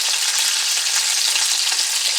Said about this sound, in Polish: Ryba już się smaży 5 minut, nic tutaj nie udaje, dolałem oleju